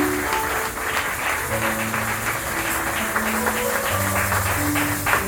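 A church congregation applauds steadily for the Lord during a Sunday service, a dense wash of clapping that carries on throughout, with sustained musical tones and voices faintly underneath.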